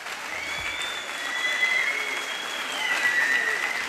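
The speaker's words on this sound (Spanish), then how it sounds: "Un fuerte aplauso para Alex, Fabián, Eva, Pelayo y Martín" Audience applause for young players of a bagpipe band at an outdoor festival concert, steady massed clapping with a faint sustained tone behind it, swelling slightly partway through.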